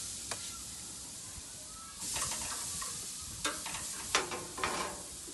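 Rump steak cooks on a hot BBQ grill: a soft hiss swells after a quiet start and carries on as faint sizzling, broken by a few sharp clicks and scrapes.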